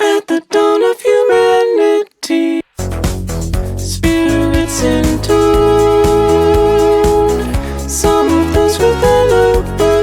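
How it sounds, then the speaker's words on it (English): A robotic, vocoded singing voice carries a melody over a steady electronic backing, the harmonized tones sounding synthetic and metallic. "style vocal with kind of a vocoder sound that sounds like this"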